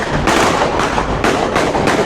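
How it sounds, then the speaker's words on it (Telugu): Firecrackers burst outside in quick succession, four or five loud sharp cracks with rumbling tails, close and dominant, with no voices. "వింటున్నారు కదా, బాంబులు అయితే పోలుస్తున్నారు"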